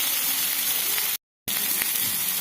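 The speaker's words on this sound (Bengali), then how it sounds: "এরপর পেঁয়াজগুলো দিয়ে টমেটোগুলো দিয়ে একটু ভেজে নেব" Onions and tomatoes with spices sizzle steadily in a pan, a constant close hiss of frying broken by one short gap of silence.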